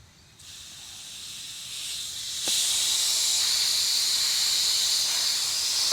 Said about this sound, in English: I'll see if I can let a bit of pressure out just by turning this.